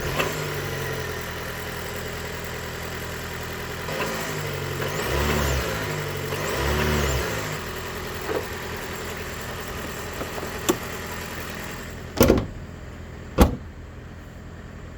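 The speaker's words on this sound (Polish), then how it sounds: "A ja pod maską mam właśnie ten napęd, czyli zwykła hybryda z napędem 4x4 i tak ten silnik brzmi." A Ford Kuga 2.5 hybrid four-cylinder petrol engine idles with a steady hum, revs briefly twice, then settles; a couple of sharp knocks or door thuds follow near the end.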